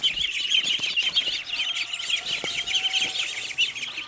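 Indian Runner and Pekin ducks on a farm give dense, continuous chattering calls close by, a steady busy flock sound with no talking.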